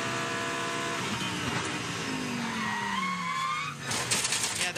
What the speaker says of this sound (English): you shouldn't hear the tires lock up like that, Hannah.